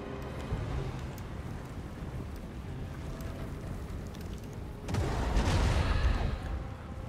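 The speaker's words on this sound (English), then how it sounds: "Casket of Souls is actually a really nice artillery piece" Artillery fire from a Casket of Souls in Total War: Warhammer 2 forms a low battlefield rumble that rises into a heavy, booming blast near the end.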